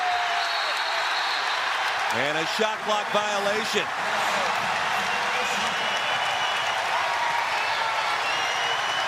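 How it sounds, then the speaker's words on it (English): A packed college basketball arena crowd roars during a Tennessee versus Vanderbilt men's game, a loud, continuous wall of cheering and noise that swells, with a commentator speaking over it briefly. "you hear this crowd roar as they should"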